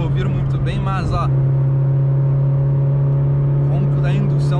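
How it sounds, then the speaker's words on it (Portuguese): Steady engine and intake roar of a Chevrolet Corsa Wind 1.0 cruising down the Anchieta highway toward the coast, a loud constant drone heard from inside the car, with a voice talking over the start and end. "o ronco da indução na estrada fica muito, muito alto mesmo, galera"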